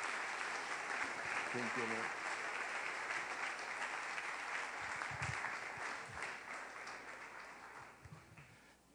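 A church congregation applauds in honor of the King, a steady wash of clapping from a large crowd that gradually fades, with a brief spoken voice heard early on.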